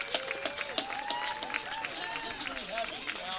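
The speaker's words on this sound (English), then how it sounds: "Please join me in applause." Audience applause at the dedication of a new university dormitory, a brisk, close crowd of hands clapping for a few seconds with some voices and cheers mixed in.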